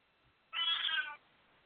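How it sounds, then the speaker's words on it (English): A pet cat lets out a single clear meow of about half a second, close by and loud against a quiet room, with no one talking over it. "My cat just came to eat her dinner."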